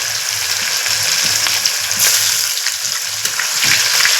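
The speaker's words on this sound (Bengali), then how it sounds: "একটু ভেজে নিতে হবে টমেটোটা হয়ে গেছে" Ripe tomatoes frying in a pan, a loud, close, steady sizzle with crackling, running without pause.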